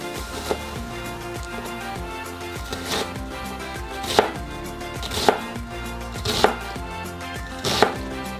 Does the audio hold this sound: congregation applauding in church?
no